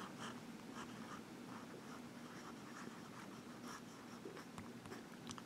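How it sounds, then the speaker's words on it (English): A Visconti Ragtime fountain pen with a medium steel nib writes across paper, giving soft, continuous scratchy strokes with brief pauses between words, close and quiet with no talking. "So let's get to writing this Visconti."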